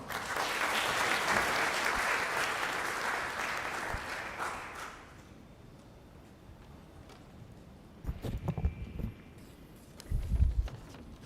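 An audience at a Young Indians Parliament session in Mizoram gives a former Member of Parliament, the guest of honour, dense and steady applause that fades out midway, leaving a quiet hall with a few scattered thumps.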